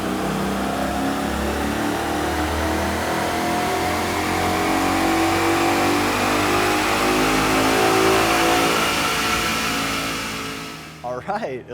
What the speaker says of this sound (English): start the engine and check for any exhaust leaks